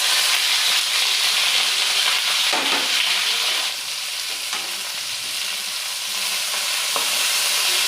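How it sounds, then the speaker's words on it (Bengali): Cubed vegetables for chilli cauliflower hit hot oil with a loud, steady sizzle and hiss of frying, with a few faint stirring knocks scattered through it. "এই কিউব করে কেটে রাখা সবজিগুলো সব আমি তেলের মধ্যে দিয়ে দেব।"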